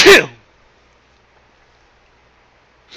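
A single sharp sneeze bursts out at the start, then near silence, with a faint breathy sound at the very end.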